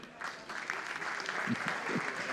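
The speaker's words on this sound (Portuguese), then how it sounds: "uma salva de palmas para ele" Audience applause for a construction-industry CEO at a conference, a soft, distant, even patter of many hands with faint voices underneath, over a short moment.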